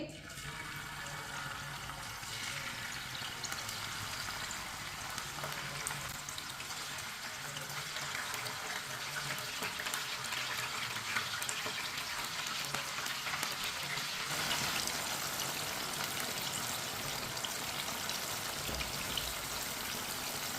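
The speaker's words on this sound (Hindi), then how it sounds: "इसे 2 मिनट के लिए फ्राई होने देते हैं।" Chicken pakora pieces frying in hot oil, a steady dense hiss and crackle of bubbling fat that continues evenly and fairly close throughout, with no voices.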